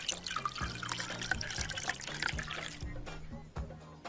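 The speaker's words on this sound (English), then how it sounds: "Pour in 20 milliliters of sugar syrup." Sugar syrup pours in the Bartender VR Simulator game, a soft liquid trickle with small drips and clinks, set under a faint repeating musical tone and light background noise.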